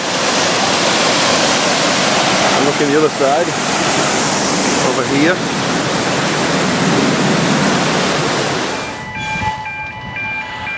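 Water rushes in a loud, continuous broadband roar, as from a river heard near a heritage railway line. Someone talks over it, and toward the end the rush fades sharply, leaving a faint tonal hum.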